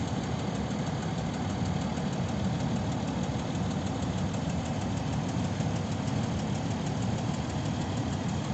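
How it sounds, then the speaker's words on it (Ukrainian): A 2015 Mercedes-Benz S350 (W222) 3.0-litre V6 diesel idles nearby with a low, even rumble and a faint knocking rattle, unchanging throughout. "Це С350 трьохлітровий дизельний двигун."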